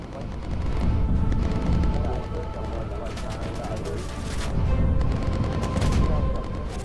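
Gunfire rattles through the Bomber Crew video game, with dense bursts of shots and booms churning continuously over a loud, rumbling background.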